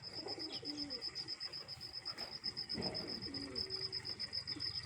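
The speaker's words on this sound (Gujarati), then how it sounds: "એ વાં ઓલા સફેદ કબૂતરા રાખેલા છે, ખુલ્લા છે, બંધ નથી કરતો હું." White pigeons kept uncaged in the open coo steadily and close by, with a constant high insect buzz running underneath and occasional other bird calls.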